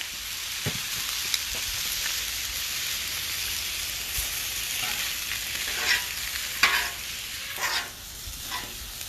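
Fajita meat and vegetables sizzle on an outdoor flat-top griddle, a steady bright hiss with occasional metal spatula clicks and scrapes as the food is stirred together.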